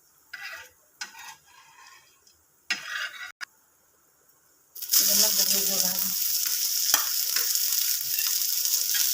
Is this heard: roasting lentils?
yes